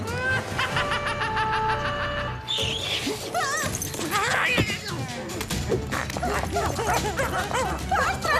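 A small dog barks, yips and whimpers close by in a cartoon scene, its sharp wavering cries repeating over music and other sounds.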